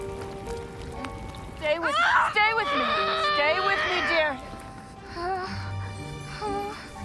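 A woman screams in pain while her hand is stitched without painkillers, letting out long, loud, wavering cries that fade into softer whimpers, with a faint patter of rain in the background.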